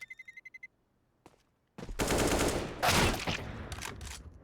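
A sniper rifle in Counter-Strike on the Dust2 map cracks out loud and close after a few faint beeps and a short quiet gap, followed by a dense burst of gunfire and game noise.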